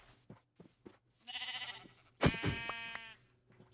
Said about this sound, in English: But I found some sheep